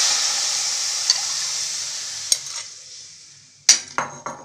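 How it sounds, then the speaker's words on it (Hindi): Tamarind pulp poured into a hot kadhai on a gas stove bursts into a loud hiss that slowly fades, broken by a few sharp metallic clinks and scrapes near the end. "तो मैंने गैस पे कढ़ाई रखी है, इसमें हम डालेंगे इमली का घोल।"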